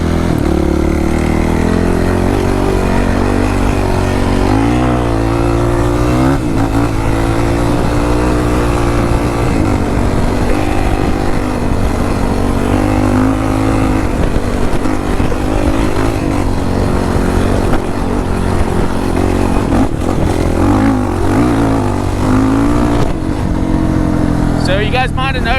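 An ATV fitted with GBC tires revs hard while being ridden. The engine drone is loud and continuous, rising and falling with the throttle throughout.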